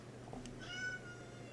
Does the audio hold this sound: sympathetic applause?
no